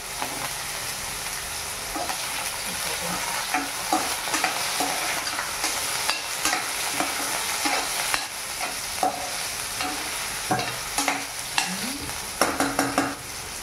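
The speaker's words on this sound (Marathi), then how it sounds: "गॅस हाय फ्लेमवर ह्याला फ्राय करूया, म्हणजे बटाटे छान गोल्डन ब्राऊन होते" Potatoes fry in a pan over a high gas flame, a steady close sizzle broken by repeated scraping and clattering stirs, no one speaking.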